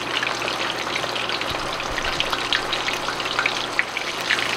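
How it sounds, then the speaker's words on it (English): Breaded flounder sizzles in hot oil over medium-high heat, a steady dense crackle and hiss with scattered popping bubbles, close and continuous with no voices. "So we're gonna let this fry for about 6 minutes or so."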